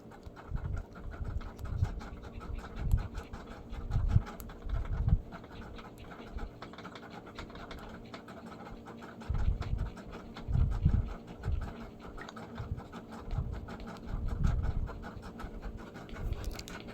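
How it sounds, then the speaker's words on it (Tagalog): A puppy pants rapidly in hot weather at a shop, soft breathy huffs in uneven bursts, close and faint, with light scratching and rustling between the breaths. "Ayan po si Papi, hinihingal pa rin guys"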